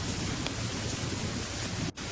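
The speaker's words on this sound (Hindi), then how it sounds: "बारिश और तेज हो रही है" Heavy rain pours down as a sound effect in a spoken Hindi horror story, a dense and steady hiss throughout with one brief dip near the end and no voice over it.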